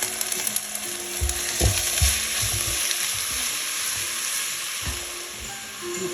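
Diced onion hits a hot pan for a homemade spaghetti meat sauce, setting off a loud constant sizzle and crackle, with a few clanks and scrapes of a utensil stirring against the pan and no talking.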